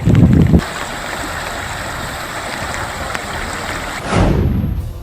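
Assam floodwaters churn and rush in a steady, broadband roar, with louder surges of waves at the start and again near the end.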